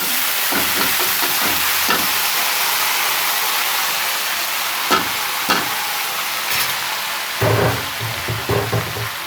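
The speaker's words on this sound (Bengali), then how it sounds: "কলমি শাকটা ভাজি করে নেব।" Water spinach fries in a pan at home, a continuous hiss of sizzling oil broken by occasional scraping and clattering stirs, loud and close with no talking.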